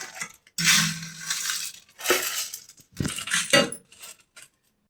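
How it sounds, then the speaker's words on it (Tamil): Idli podi spice powder whirs in a kitchen mixer grinder in several short, loud bursts, each about a second long and separated by brief pauses, with a rattling, crunching edge. "இப்போ அரைச்சிக்கலாம்."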